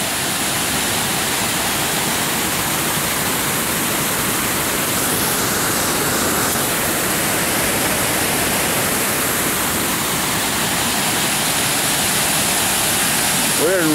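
Water rushes steadily over Cliffside Dam on the Second Broad River in Rutherford County, North Carolina, a loud, continuous broadband roar that fills the whole scene without pause.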